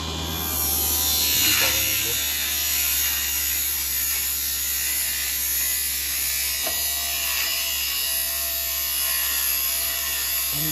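Tire truing machine buzzing steadily as its cutter trims a foam RC tire, a constant close, high motorized whine lasting throughout with little variation and brief faint shifts in tone.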